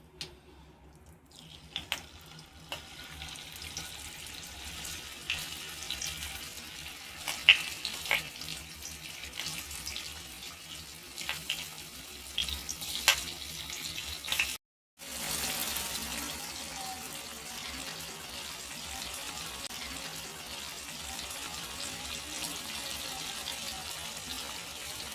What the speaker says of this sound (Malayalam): നമുക്ക് എണ്ണയ്ക്കകത്ത് കൊഞ്ച് വറുക്കാനായിട്ട് എണ്ണ നമ്മൾ ഒഴിച്ച് കൊടുക്കുകയാണ്.